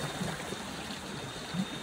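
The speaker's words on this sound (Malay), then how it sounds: "Ada sungai." Steady rushing water from a flowing river on a Gunung Angsi hiking trail in Malaysia fills the background, a continuous wash of noise with faint low gurgles.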